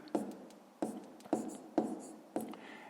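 A pen or pencil scratches out a fifth-grade fraction exercise by hand in five distinct strokes, each starting sharply and tailing off, close and alone.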